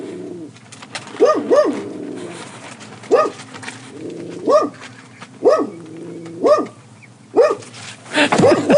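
Dogs bark repeatedly nearby, in short single and doubled barks spaced about a second apart, loud over a quiet background.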